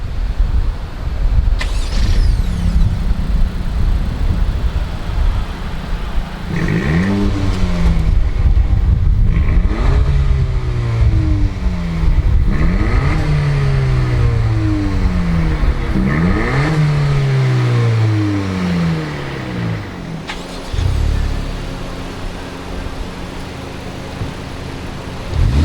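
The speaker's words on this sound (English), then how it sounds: "let's go ahead and fire up these two engines and see if they sound different" Two 2019 Honda Civic engines, a Type R and an Si, rev repeatedly, pitch sweeping up and down in several loud, close bursts over a steady idle rumble, then settling back down.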